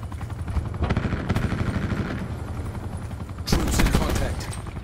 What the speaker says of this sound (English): Attack chopper standing by.